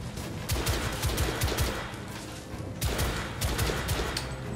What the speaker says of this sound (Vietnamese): Súng này khó bắn quá ta.